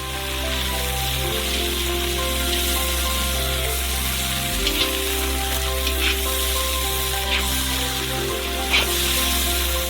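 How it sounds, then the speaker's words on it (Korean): Crayfish frying in hot oil, a steady dense sizzle like rain on a surface that runs the whole time, with a low constant hum underneath and a few brief crackles. "가재를 튀겨주면 돼요"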